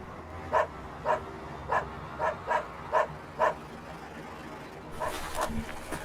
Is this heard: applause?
no